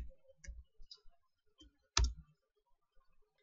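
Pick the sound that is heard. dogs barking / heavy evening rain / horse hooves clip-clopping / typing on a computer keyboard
typing on a computer keyboard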